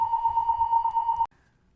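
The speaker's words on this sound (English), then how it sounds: "hearing the fire alarm for the first time since I moved into my new condo about 6 weeks ago" A condo fire alarm blares a loud, steady electronic tone for just over a second, then cuts off abruptly, leaving near silence.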